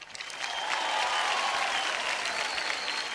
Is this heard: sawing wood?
no